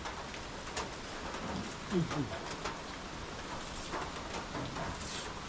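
Steady rain falls continuously at a moderate, even level, a broad hiss with a few slightly louder patters, heard outdoors around a home kitchen at lunchtime.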